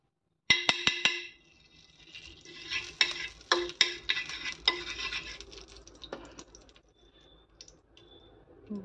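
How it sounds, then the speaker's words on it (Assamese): Ghee cooks on a hot tawa griddle, with a brief sizzle followed by scraping, stirring and tapping of a utensil against the pan, close and moderately loud with no talking. "তেৱাখন গৰম হৈ গল তেৱাত অকমান মই ঘিউ দি পেলাই বনাম"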